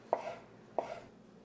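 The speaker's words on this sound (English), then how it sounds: "So we're gonna cut this up into small pieces" Knife chopping takoyaki filling into small pieces on a board, two distinct quiet chops spaced well apart, each with a short resonant ring.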